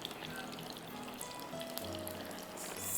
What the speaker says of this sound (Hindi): Deep fry on medium heat